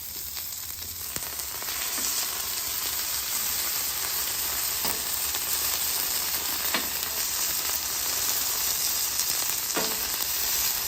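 Beef sizzles and fries steadily on a hot griddle, a dense continuous crackle that fills the whole stretch, with occasional faint scrapes and taps of a spatula and no voices.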